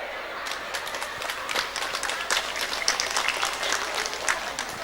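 Applause from a crowd of women at an Islamic religious gathering, a steady dense wash of clapping lasting several seconds at moderate loudness.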